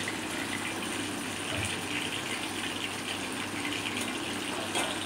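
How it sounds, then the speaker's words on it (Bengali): Spice-coated fish frying in a pan, a steady, loud, continuous sizzle with a broad hiss that holds evenly throughout. "দেখ, আমি এইভাবে একটা করে প্রত্যেকটা মাছ ভেজে নিচ্ছি।"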